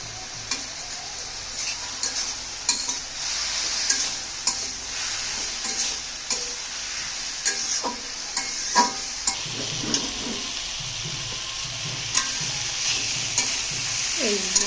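Cumin paste and a few green chillies sizzle steadily in a hot pan while a spoon stirs and scrapes, with irregular clicks and taps of utensil on metal throughout and no talking.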